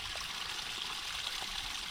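A natural mountain water spring trickles nearby, making a continuous soft, even hiss of flowing water with no voices over it.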